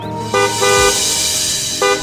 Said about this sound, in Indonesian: Cepet-cepet, klakson yang keras.